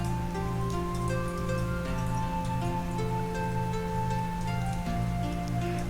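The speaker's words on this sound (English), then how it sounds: "Heavy vertical rain hitting the roof tiles." Heavy vertical rain pours steadily onto roof tiles at night, a dense unbroken wash of drumming with no voices.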